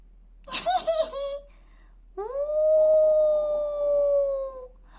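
Wild wolf-like howling cries: a short yelping burst followed by one long, loud, sustained howl that slowly falls in pitch and fades, heard close and alone.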